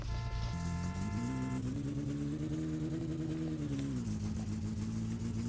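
A Maluch, the Polski Fiat 126p, revs its small engine in a Roblox driving game, a loud steady buzzing drone whose pitch climbs, holds, then drops as it shifts, with no talk over it.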